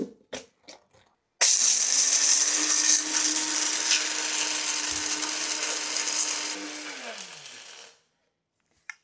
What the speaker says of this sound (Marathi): सगळ्यात आधी ना साबुदाणा घालायचा आणि त्याचं जितकं शक्य असेल तितकं बारीक पीठ दळून घ्यायचं.